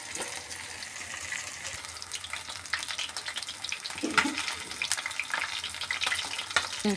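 Chicken pieces fry in hot oil for a chicken curry lunch, a steady crackling sizzle with scattered pops and a few utensil scrapes, fairly close and continuous, with no one talking.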